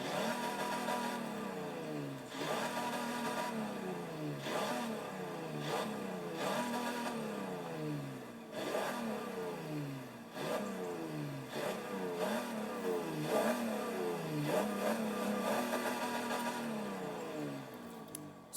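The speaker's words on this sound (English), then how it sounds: "So this is the Hudson Hornet engine that's on this Corvette." A Corvette carrying a Hudson Hornet engine in Forza Horizon 4 revs repeatedly, the engine note climbing and dropping in cycles of rising pitch, loud and close, with no talking.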